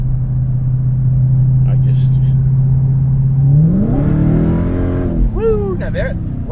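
A car is floored at full throttle, a steady loud engine drone that suddenly climbs into a rising roar of revs near the end, with a short cheer from someone inside the car.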